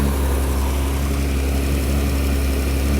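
A Ford 200 inline six engine idles in a loud, steady, low rumble with an even drone that holds unbroken and close throughout as the idle is adjusted.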